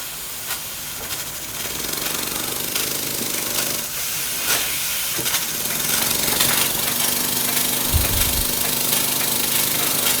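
A Microcosm M22 micro steam engine runs under steam with a continuous loud hiss and a rapid mechanical chuffing beat, close up, with a brief low thump near the end and no talking.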